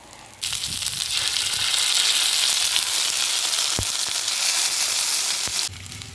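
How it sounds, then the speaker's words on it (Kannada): Fish, a thorny kadlele or mullubaale variety, tawa-fries in hot oil with a loud, steady sizzle that starts abruptly and runs for about five seconds, broken by a couple of sharp pops and spatters. "ಒಳ್ಳೆ ಕಾಯ್ತಾ ಉಂಟು ಚೀ ಅಂತ"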